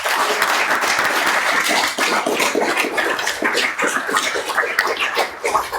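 Audience applause after presenters at an indie game community lightning talk event, a dense steady patter of many hands clapping throughout, fairly loud and close, with no speech over it.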